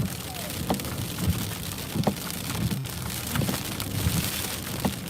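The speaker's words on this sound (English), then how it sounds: "We are beginning to change over from heavy snow to freezing rain and sleet" Freezing rain and sleet fall steadily during a changeover from heavy snow in Travelers Rest, South Carolina, a continuous close hiss of drops hitting surfaces with small irregular taps throughout.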